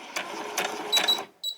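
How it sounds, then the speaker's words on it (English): A sewing machine runs a long basting stitch on a white summer top, sounding as a few short mechanical runs close by with brief pauses between them. "I'm just going to do a basting stitch down here."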